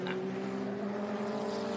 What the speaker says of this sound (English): I can hear that Mazda screaming away in the background.